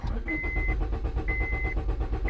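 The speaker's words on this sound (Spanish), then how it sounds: "estoy pisando el acelerador para ver si cambia acá y no tengo respuesta." A Honda Civic that cranks but will not start churns in a steady, pulsing mechanical drone while the accelerator is pressed without any rise in pitch. A high warning chime repeats over it.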